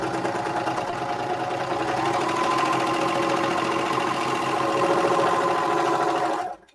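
A sewing machine stitches steadily through a thick stack of fabric, a loud, even mechanical whir running continuously for several seconds before stopping abruptly near the end.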